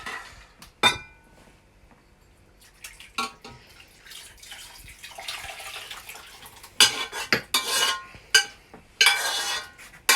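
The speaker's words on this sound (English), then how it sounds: "carefully ladle or spoon your mixture into your heatproof container" Slow-cooked BBQ beef mixture being spooned into a hot heatproof container, with scattered scraping clinks of a spoon and wet splatting slops that grow louder toward the end, no talking.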